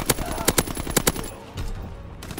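Rapid bursts of gunfire aimed at infantry beside a tank in a war video game, a string of sharp, loud shots in quick succession that then cut off into a quieter rumble.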